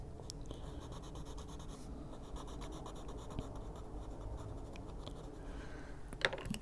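Colored pencil strokes across paper while coloring an adult coloring page, a steady soft scratchy scribble throughout, close and quiet, with a few sharper taps near the end.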